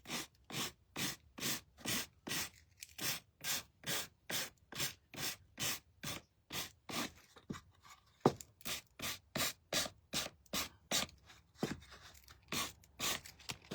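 Steady back-and-forth rasp of sandpaper rubbing on wood, about two strokes per second, close and even, with a brief pause partway through.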